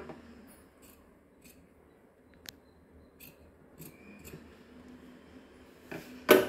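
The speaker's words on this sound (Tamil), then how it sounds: "இந்த பீஸை மட்டும் நம்ம கட் பண்ணி எடுத்துருவோம்." Scissors snip through blouse fabric in faint, scattered cuts on a quiet indoor table, with a louder clack at the end and no talk.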